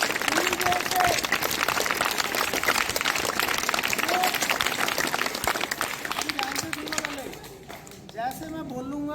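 A crowd of schoolchildren clapping as hard as they can, a dense, loud, sustained roar of claps that fades near the end as voices rise and a speaker talks.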